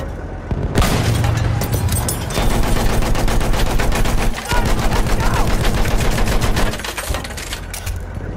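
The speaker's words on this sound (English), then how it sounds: "Machine gun!" Loud, sustained machine gun fire in Battlefield 1, with rapid bursts merging into a dense roar and booming impacts, broken by a brief pause partway through.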